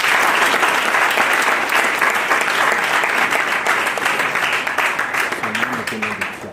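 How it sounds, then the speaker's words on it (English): Loud, sustained applause from an audience for performers at a human rights dialogue event, steady dense clapping throughout, with a voice starting to speak faintly near the end. "Let's give them another round of applause."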